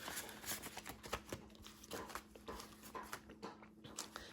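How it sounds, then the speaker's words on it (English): Dog chewing on a bone nearby: irregular crunchy gnawing clicks and wet smacks come in uneven bursts over a low steady hum. "you can definitely hear my dog chewing on his bone in the background"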